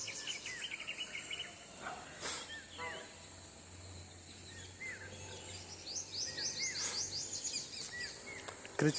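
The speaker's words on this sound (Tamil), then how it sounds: "விதவிதமான பறவைகளோட ஓசையை நம்ம கேட்கலாம்" Varied bird chirps and calls scattered over a steady insect and cricket drone, moderately distant outdoor ambience with no talking.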